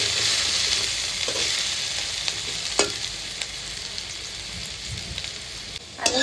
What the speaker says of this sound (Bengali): এবার আমি তেলের মধ্যে দিয়ে ভেজে নেব।